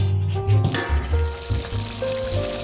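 Mushrooms sizzle and fry in a pan for veg keema, a steady loud crackle close up. Soft stirring or scraping knocks run under it, and the sizzle keeps going throughout.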